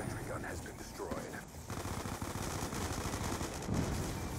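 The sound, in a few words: gunfire in the video game Black Ops II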